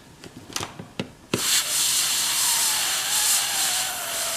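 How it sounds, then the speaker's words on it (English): Steam cleaner blasting a steady, loud hiss onto a full upper denture, preceded by a few sharp clicks and taps before the continuous jet starts and holds. "Steam cleaner."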